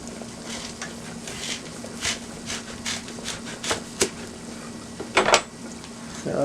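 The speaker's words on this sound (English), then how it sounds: "I'm about to cut my yam" A knife cuts through a yam on a board while boiled yams and turkey tails are prepared, giving a string of soft, uneven thuds and scrapes close by, with one sharper clatter near the end.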